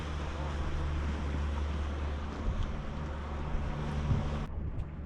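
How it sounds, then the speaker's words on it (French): A passing speedboat sends waves slapping against a moored sailboat at anchor, a broad wash of water and wind noise with a low motor hum underneath, continuous and moderately loud throughout. "Ouais, il va nous faire des vagues."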